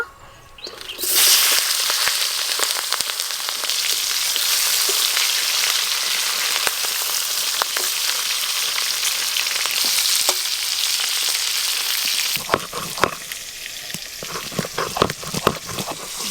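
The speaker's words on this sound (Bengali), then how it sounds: "ওই একই তেলে গলদা চিংড়ি ভেজে নেব।" Freshwater giant prawns frying in hot oil, a loud steady sizzle close up that starts after a brief quiet moment and keeps crackling with sharp spatters and stirring sounds near the end, with no talking.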